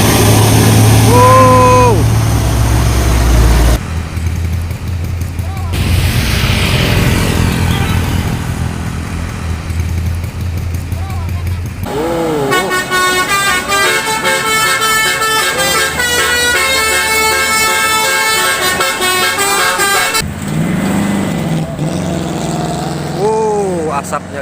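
A heavily loaded truck climbs a steep hill at Pegegas, its diesel engine roaring loud and steady under throttle with horn-like tonal bursts and road noise; someone speaks briefly over it.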